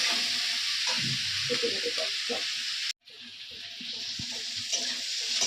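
Food fries in a pan on a home stove after potatoes are browned, a steady loud hiss and sizzle with faint scraping stirs, briefly cut off midway before resuming.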